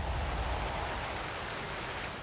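Flowing water in the Outer Wilds video game, a steady rushing wash of noise with no break, close and moderately loud, easing slightly by the end.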